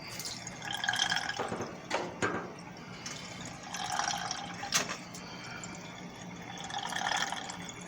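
Central Machinery 20-gallon parts washer pump returning solvent fluid to the tank, a steady trickle and drip with scattered splashy drops, fairly close and alone.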